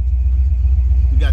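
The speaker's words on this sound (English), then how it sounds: "We got the burnout." Fox Body Mustang held on the brakes doing a burnout, a heavy pulsing low rumble throughout, close and loud, with a short voice near the end.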